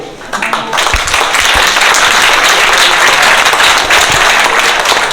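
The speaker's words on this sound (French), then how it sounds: "Et merci pour l'applaudir." An audience at a public talk about water gives a speaker a loud, sustained round of applause, dense clapping filling the room from start to finish after a brief voice at the outset.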